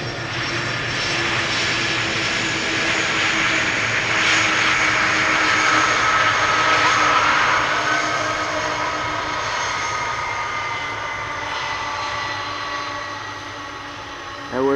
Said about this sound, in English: Well, just in time to see the second DHL A300 land.